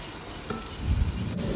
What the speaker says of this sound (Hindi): अब हम इसको 5 मिनट भूनेंगे ताकि सारे मसाले एक जान हो जाए